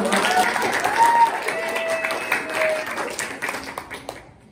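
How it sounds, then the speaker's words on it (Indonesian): Listeners at an Indonesian motivational talk applaud a speaker, a crowd clapping fairly loudly with some whoops and voices mixed in, then fading away to silence near the end. "Tepuk tangan semuanya"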